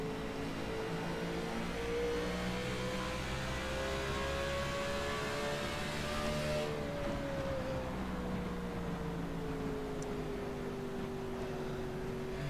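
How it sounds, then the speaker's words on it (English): A race car on the New Hampshire track heard from an in-car camera, its engine tone steadily rising under acceleration then falling off as it decelerates, a loud continuous drone with wind and road noise throughout. "if you listen carefully, you can hear the acceleration and the deacceleration"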